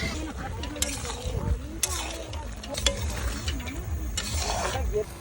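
Stirring and frying in a cooking pot at a riverside family picnic, a metal spatula scraping and clinking in irregular strokes over a soft sizzle, with voices talking faintly in the background.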